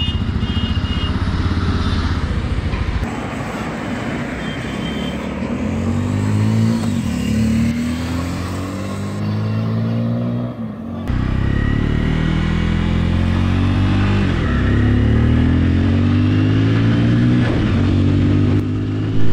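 A Bajaj Pulsar N250 motorcycle is ridden out of a showroom onto the road, its engine loud and close as it revs and accelerates, the pitch repeatedly climbing and dropping through gear changes, with no talk.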